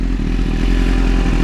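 A 2010 BMW S1000RR sport bike's engine drones loudly and steadily at high revs while riding through downtown Houston, with a heavy low rumble and mechanical clatter.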